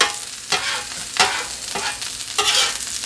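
Finely chopped cheesesteak meat tossed with butter on a flat griddle, a steady sizzle broken by four sharp scraping spatula strokes spaced roughly a second apart, close and fairly loud, with no talking.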